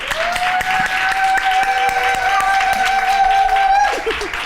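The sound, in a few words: audience applause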